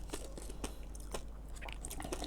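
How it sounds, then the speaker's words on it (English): Crunchy fish skin snack being bitten and chewed, a run of sharp, close, dry crunches at an irregular chewing rhythm, loud and alone. "Uncle Darren cannot stop crunching, eating, keep one the next one."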